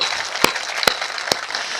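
A poetry-recital crowd at Hariom Pawar's performance keeps up a dense, fairly loud round of applause, punctuated by three sharp, loud claps or bangs spaced less than half a second apart.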